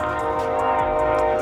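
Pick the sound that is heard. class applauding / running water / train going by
train going by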